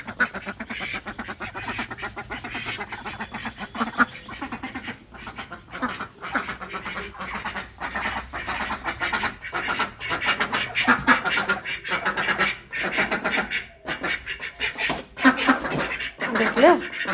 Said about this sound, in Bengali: এই দেখো আমার হাঁস বাড়ি চলে এসেছে